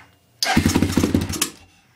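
A rebuilt Honda 300EX ATV engine cranks and catches briefly, a loud, close, sputtering burst of rapid firing pulses lasting about a second before fading out.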